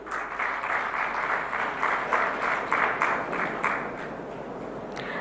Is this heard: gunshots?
no